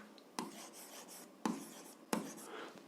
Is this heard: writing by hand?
yes